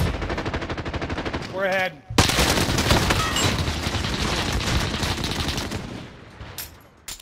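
Rapid automatic gunfire rattles almost nonstop in an online shooter video game, with heavy, close bursts that fade toward the end. A player speaks briefly partway through.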